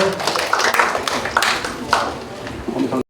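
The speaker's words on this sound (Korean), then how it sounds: "뜨거운 박수로 환영해 주시길 바라겠습니다" An audience in a fourth-floor auditorium at a Chungnam agro-industrial complex workshop claps to welcome a company CEO taking the stage, a short burst of moderately loud, scattered clapping over about three seconds.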